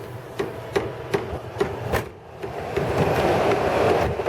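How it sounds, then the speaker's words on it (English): A train rolls past with a steady, rhythmic clack of wheels over rail joints, loud and close, under a broad rushing rumble. "Here goes the train again."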